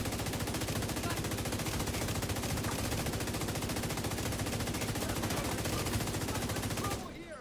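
A light machine gun fires in a sustained, dense automatic burst in a video game, loud and close, rattling without pause for about seven seconds before cutting off abruptly.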